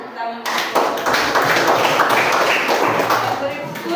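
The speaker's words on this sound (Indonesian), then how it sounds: "kita beri tepuk tangan" A classroom of students breaks into steady applause, many hands clapping together loudly for several seconds while a voice speaks over it.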